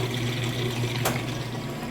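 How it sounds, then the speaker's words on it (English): A Kenmore washing machine drains water during its rinse cycle with a steady, close rushing gush under a low motor hum, and a brief splash or clunk partway through. "You can hear it draining that water out nice and fast."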